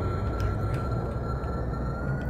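Rocket engines fire in the Kerbal Space Program video game with a steady, loud, unbroken roar and hiss, holding an even level with a faint high tone running through it.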